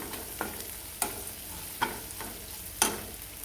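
Leftover bhakri pieces are stirred in a frying pan as salt goes in. A soft sizzle runs underneath four or five distinct scraping clatters of the spoon against the pan, spaced unevenly.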